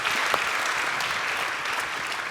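An audience at a business awards ceremony applauds Agnès Montaigne, a full, even wash of clapping from many hands that carries on steadily throughout.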